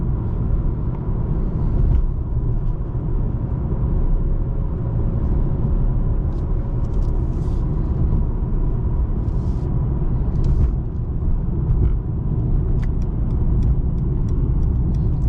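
A 2020 Mercedes-Benz E53 AMG on a test drive gives a steady, loud, low engine and road rumble from inside the cabin, continuous throughout with faint ticks above it.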